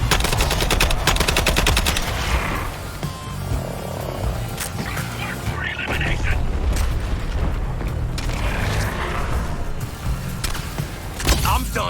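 Continuous heavy gunfire and booming cannon blasts from a Suicide Squad: Kill the Justice League battle on PS5, rapid and loud throughout, with scattered mechanical clanks and a voice speaking over it.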